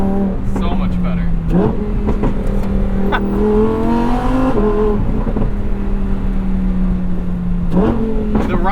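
A 2022 Lamborghini Huracan engine revs while driving, rising and falling through low and mid revs with a rumbling, barking exhaust tone, close and loud, with people talking over it.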